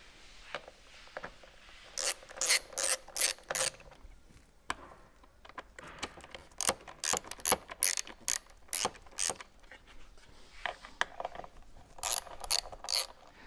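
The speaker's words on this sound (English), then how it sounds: "So we're going to be removing these 4 Torx bolts from" Socket and ratchet working loose T50 Torx bolts on the subframe of a BMW R1200/1250GS motorcycle: bursts of rapid, close mechanical ratchet clicks in several runs, with short pauses between them and no talking.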